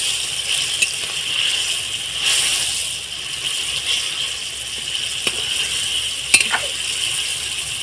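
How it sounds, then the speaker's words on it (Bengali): Fried onions with ground cumin, coriander and black pepper cooking in a pan, a soft steady sizzle with a few sharp clinks of a utensil, close and without talk. "তারপরে আমার এই ভেজে রাখা পেঁয়াজগুলো এর মধ্যে দিয়ে দিলাম।"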